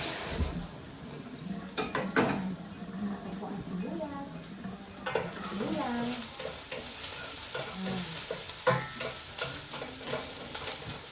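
Garlic and onion frying in a pan for spaghetti sauce, a soft sizzle under repeated clinking and scraping of a utensil against the pan, while a voice talks over it.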